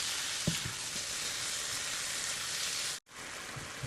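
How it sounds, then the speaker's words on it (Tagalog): Chicken pieces seasoned with black pepper and garlic salt fry in a hot pan for a honey-glaze stir-fry, giving a dense, steady sizzle close by that drops out for a moment and then resumes. "And then fry it until golden brown."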